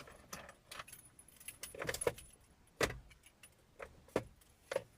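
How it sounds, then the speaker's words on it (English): Keys jangle and clink repeatedly in short, irregular shakes, close and fairly loud, with a faint engine hum underneath. "Mandy, you're making noise with these keys."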